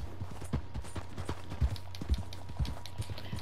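Steady clip-clop of horse hooves at a walking pace in the video game Red Dead Redemption 2, a soft rhythmic thudding over a low constant hum, with no talking.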